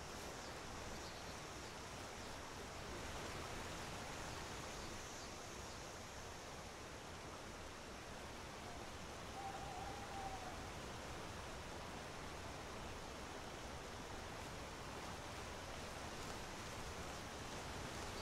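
A Skyrim waterfall rushes as a steady, even wash of broadband noise, unbroken and moderately distant-sounding, with no voices over it.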